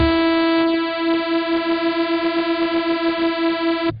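A sustained, buzzy detuned-sawtooth Reese bass synth from Propellerhead Reason 3 holds a steady pitch for about four seconds, its bright harmonics slowly swirling and phasing before it cuts off abruptly.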